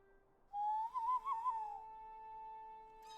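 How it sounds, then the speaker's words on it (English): A person whistles a single wavering, slightly rising and falling tone for about a second, thin and fairly close, then a quieter steady tone lingers over a hushed background without talk. "It's a really insipid whistle I have."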